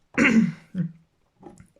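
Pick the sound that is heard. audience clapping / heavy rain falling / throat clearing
throat clearing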